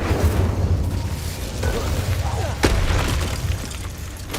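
Incendio fire spell cast in the Hogwarts Legacy video game, a loud booming burst of flame with a sharp crack partway through over dense rumbling game effects, with a voice speaking alongside.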